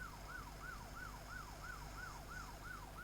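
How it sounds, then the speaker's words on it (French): A French national police patrol car's siren wails in rapid, regular rising-and-falling sweeps, steady and continuous over low road and engine rumble, heard from inside or near the moving vehicle. "On fait les petites sirènes."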